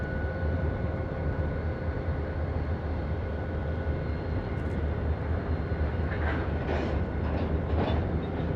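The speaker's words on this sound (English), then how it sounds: "The Iowa, Chicago and Eastern locos are an ST40-2, number 6431, leading" An Iowa, Chicago and Eastern freight train led by ST40-2 and ST40-3 locomotives rumbles past at a bridge near Camden Place in Minneapolis, a steady loud low drone with a sustained engine tone throughout.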